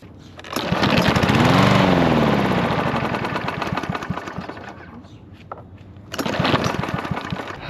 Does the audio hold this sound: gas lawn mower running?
yes